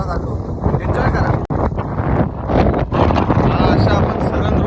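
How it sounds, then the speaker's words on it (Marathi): Strong wind by the sea at India's southern tip, where a road runs between open water on both sides. It roars steadily and loudly across the microphone, with a brief dropout partway through. "वारा भरपूर आहे."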